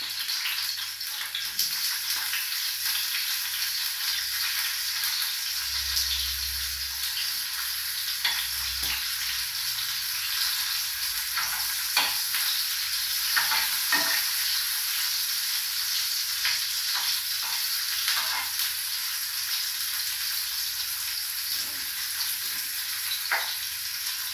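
Garlic and onion sizzle steadily in a hot pan, a continuous bright frying hiss throughout with occasional crackles and faint stirring scrapes, close and loud, no talking.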